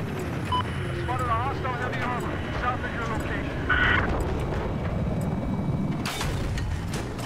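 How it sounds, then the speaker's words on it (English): A helicopter in the video game Battlefield 4 gives a continuous low mechanical roar with rumble and blasts mixed in. A player talks excitedly over the game sounds throughout. "Hit the chopper."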